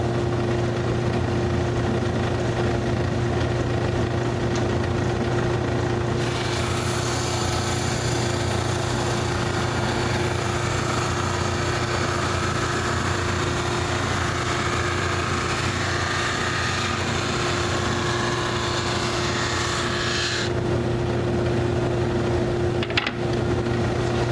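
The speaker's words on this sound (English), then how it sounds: "this sander's perfect for it because it sands that flat and perfectly smooth" A power sander runs steadily on wood for a kitchen island build, a loud continuous motorised whir with a brighter, harsher stretch in the middle as the tool bears down on the surface.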